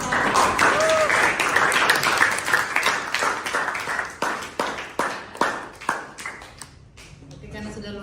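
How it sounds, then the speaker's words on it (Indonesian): Classroom applause for students after a lesson: a dense burst of clapping that breaks into sharp, separate claps and tails off, while a teacher speaks over it. "tepuk tangan dulu untuk kalian yang sudah berusaha"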